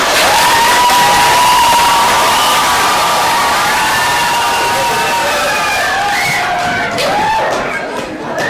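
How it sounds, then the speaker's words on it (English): A loud crowd cheers, whoops and shouts at an Oak Park High School theatre company staging of A Christmas Carol, a dense, sustained roar with children's voices and scattered applause filling the hall. "Just give a big cheer for these guys around here"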